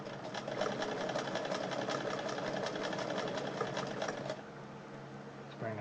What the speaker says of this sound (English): I'm going to move the zigzag all the way to 4, so it's going to do the maximum zigzag